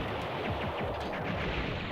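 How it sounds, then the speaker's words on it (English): Explosions in the PlayStation game Silent Bomber: a dense, unbroken wall of rapid crackling blasts and rumbling booms, loud and sustained, with no pauses and no voices. "But yeah, explosions everywhere."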